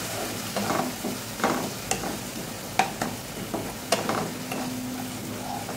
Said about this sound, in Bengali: লবঙ্গ দিয়েছি কড়াইতে, তেজপাতা দিয়েছি, তার মধ্যে দিয়ে দিলাম পেঁয়াজ বাটাটা।